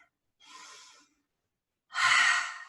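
A deep breath during a hatha yoga session: a soft, breathy inhale, a pause, then a louder, fuller exhale pushed out through the mouth, close and alone with no talking.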